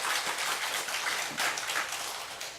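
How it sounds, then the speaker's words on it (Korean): A church congregation claps together during a Sunday sermon, a dense, steady wash of many hands filling the room without pause. "하나님께 박수 보내세요."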